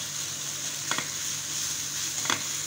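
Mushrooms with ginger garlic paste sauté in a pan, giving a steady close sizzle with two brief scraping stirs of a spoon, no voices.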